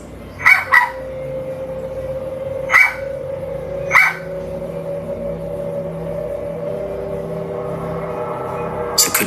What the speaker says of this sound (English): You can hear the user's dogs barking as though they sense something is off.